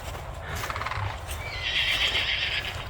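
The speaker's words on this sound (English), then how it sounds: "There's a bunch of horses." Horses neigh loudly at close range, one long whinny rising high near the end, with hooves clip-clopping underneath.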